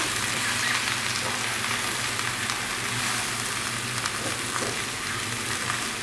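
Mixed mushrooms fry in a pan over medium-high heat, giving a steady, close, continuous sizzle with faint crackles throughout and no talking.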